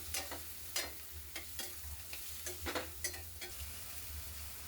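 Green peas with turmeric fry quietly in a pan while a spoon stirs them in irregular scraping strokes over a soft, steady sizzle and low hum.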